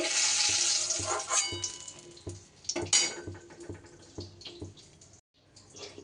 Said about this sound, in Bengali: একটু ভেজে নিয়ে লঙ্কাগুলো তুলে নিতে হবে